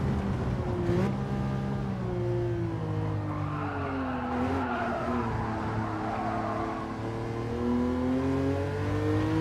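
A race car in Gran Turismo 7 revs and climbs through the gears, each upshift dropping the pitch before it rises again, with faint tire squeal underneath; the engine sound is steady and fairly quiet, with no talking.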